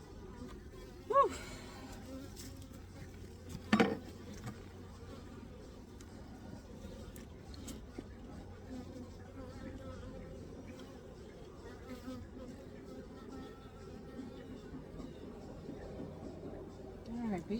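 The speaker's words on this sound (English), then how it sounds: "bees out of every crack and crevice" Bees buzz around an opened hive, a constant low drone at close range with a few sharp knocks from hive work, and a person talks briefly over it.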